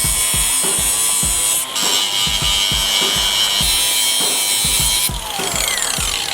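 An angle grinder cuts metal steadily and loudly up close, a harsh high whine with repeated scraping strokes against the hard material.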